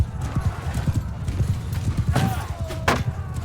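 Cavalry horses galloping in the video game Mount & Blade 2: Bannerlord, a dense rolling clatter of hooves with a couple of whinnies breaking through, heard with talking over the top.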